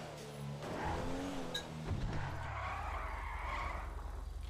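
A car in a video game skids with tires squealing, a sliding pitch that bends downward for about two seconds and then settles into a low engine rumble. The sound is moderately loud and close.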